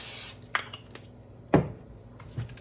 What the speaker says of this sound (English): Spray the top first, because we're going to flip